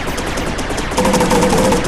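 Paintball guns in the Rec Room video game fire a rapid series of sharp, evenly spaced shots, loud and close. A tonal hum enters partway through.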